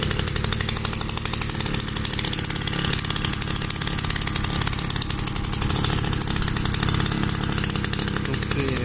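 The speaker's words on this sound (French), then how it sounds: "Donc je le démarre et je reviens après. Bon, du coup il tourne." A restored 1956 Solex 660 moped engine running steadily, a close, loud buzzing two-stroke drone with an even rapid pulse that never lets up.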